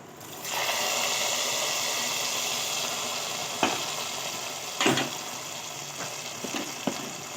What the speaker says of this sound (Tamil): இப்போ நல்லா கொதிக்குது